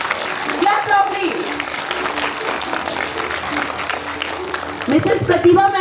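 Sustained applause from a school audience clapping for a teacher receiving an award at a Founders Day celebration, steady and fairly loud throughout, with a voice speaking over the clapping near the end.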